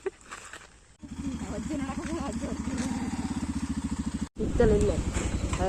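A motorcycle with a punctured tyre rides past, its engine thumping in a fast, rhythmic chug that runs for a few seconds, cuts out briefly, then returns louder, with voices heard around it.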